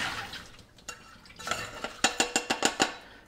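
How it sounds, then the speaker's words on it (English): Rinsed short-grain black rice being drained in a kitchen, a soft watery rush followed by a series of sharp, evenly spaced clinks and knocks of a pot or strainer, close and fairly quiet. "I'm gonna drain it."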